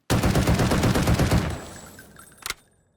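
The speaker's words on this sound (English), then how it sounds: "The Ash Battle Rifle. Let's equip that." Ash Battle Rifle firing in the Delta Force video game: a loud, rapid burst of roughly fifteen close shots lasting about a second and a half, then a fading tail and one final single report.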